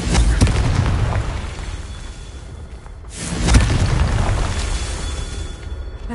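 Booming spell blasts from the Confringo curse in Hogwarts Legacy during a Merlin trial, two loud explosive bursts about three seconds apart, each swelling into a rumbling roar that fades, with no talking.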